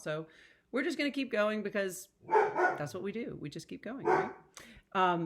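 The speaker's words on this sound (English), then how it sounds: "And so my dog is now going to go crazy for a little while." A dog barks excitedly in the background of a room while a person keeps talking steadily over the noise.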